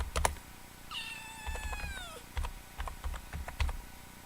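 A cat meows once with a clear, drawn-out falling call, set against a run of soft keyboard typing taps before and after it.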